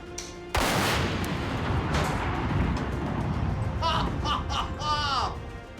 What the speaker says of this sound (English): The largest explosion in MythBusters history.